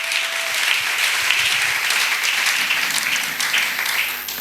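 A church congregation applauding and cheering, a dense, steady roar of clapping hands that fills the whole stretch and eases off slightly at the end, with no talk.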